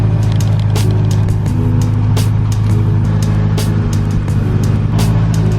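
A BMW F30 engine warming up runs as a loud, steady drone, heard close, with a constant low rumble and faint clicks on top.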